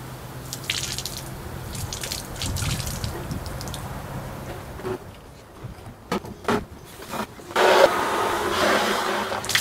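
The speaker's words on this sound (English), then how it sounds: "At least the water is clear." Rinse water pouring and dripping out of a Mazda RX3 fuel tank during restoration, a continuous splashing trickle that breaks into irregular drips and spatters, close by with no talk.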